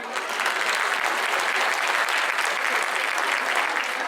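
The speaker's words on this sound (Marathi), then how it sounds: "या सुंदर कला आविष्काराला टाळ्या का मिळत नाहीत?" An audience at a Chaitra month and Maharashtra Day cultural program applauds a performance, a dense, even roar of many hands clapping throughout, loud and sustained.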